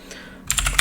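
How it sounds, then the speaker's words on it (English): Several quick keystrokes on a computer keyboard while entering a deploy command in a terminal, starting after a brief quiet moment, close and clear with no talking. "I'm going to go and do that inside terminal. So I'm just gonna type deploy this to redu"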